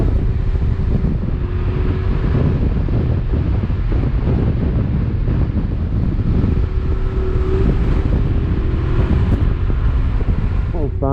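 Loud, steady wind buffets the microphone throughout a motorcycle ride on a gravel road in rural New South Wales, Australia, a dense continuous roar with faint engine tones beneath.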